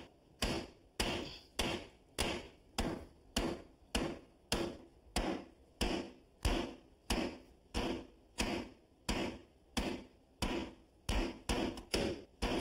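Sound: hammering a jack stud up under a beam

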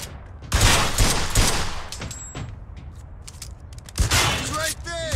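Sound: gunfire in the video game Mafia II

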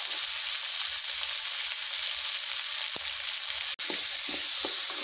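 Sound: onions frying in a pan

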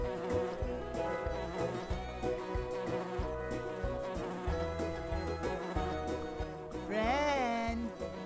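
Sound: bumblebees buzzing in Nature Cat video game

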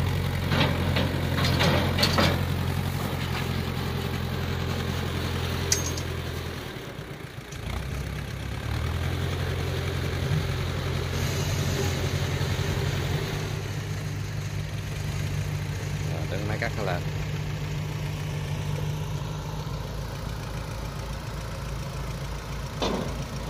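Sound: tractor engine hauling a Kubota DC60 rice harvester

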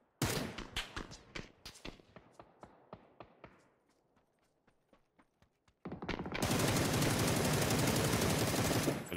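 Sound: gunfire aimed at the player, PUBG-style battle royale video game

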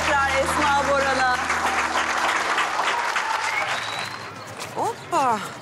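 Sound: audience applause

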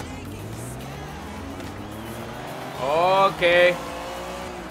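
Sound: racing cars in Forza Horizon 3 video game race

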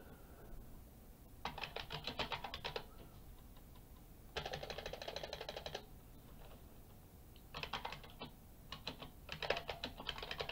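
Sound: typing on a computer keyboard

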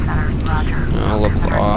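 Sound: aircraft engine throttling up in Flight Simulator X video game

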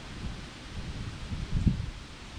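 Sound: strong wind blowing leaves around a yard

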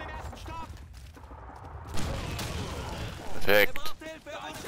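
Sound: grenade explosions in Call of Duty 2 (video game)

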